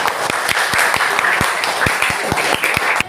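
Children in a classroom clap for their teacher, a close, loud burst of rhythmic hand claps in a fairly steady beat over a bright background of voices and room noise.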